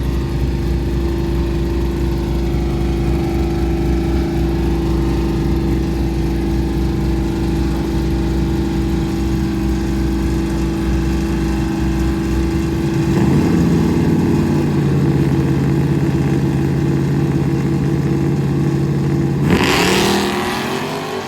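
A Camaro and a Chevelle idle loudly at a drag strip finals, their engines a deep continuous rumble, then one blips and revs upward before both roar hard at the end, close and dominant with no talking.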